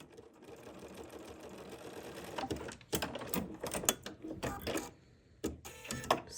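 A sewing machine fitted with a circular embroidery attachment couches threads in quick, rattling bursts of stitching separated by short pauses, fairly faint and close.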